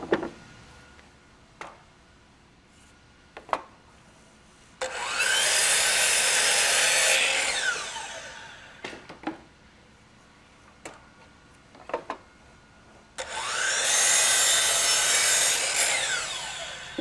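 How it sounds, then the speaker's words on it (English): Power saw cutting wooden stair miter return pieces to length: two loud, sustained cuts of several seconds each, separated by quieter handling knocks and taps on the wood between them. "Now we have to cut them to length."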